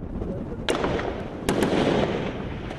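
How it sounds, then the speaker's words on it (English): Two sharp blasts, roughly 0.8 seconds apart, ring out over a steady rumble of gunfire. They fit grenades or heavy weapons used alongside machine gun and small arms fire in an assault on a house, and each boom trails off into a noisy tail. "They use grenades, machine gun fire, small arms to try to shift them."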